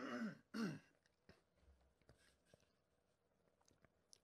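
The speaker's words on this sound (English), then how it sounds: "You know I'm about to start reading again when I sniff, clear my throat, and take a sip." A single throat clear in a quiet room, a short rough burst followed by a second. Softer sniffs, small clicks and faint mouth sounds come after.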